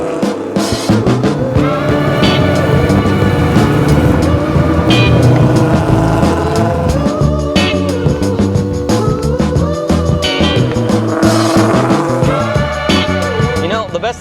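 A Ford Mustang GT engine revs on tight, twisty roads, loud and near, with repeated rises and drops in pitch as gears change, a dense throaty roar throughout.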